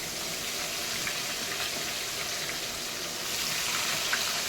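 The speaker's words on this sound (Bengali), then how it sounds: "পেঁয়াজটাকে একটু লালচা করে ভেজে নেব" Chopped onion frying in a pan with cardamom and bay leaf, a steady, even sizzle like light rain, moderately loud and unbroken, with no voices.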